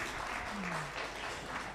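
Audience applause at a democracy session in Kenya, a dense continuous wash of hand clapping lasting throughout at steady, moderate loudness, with a brief low tone passing underneath.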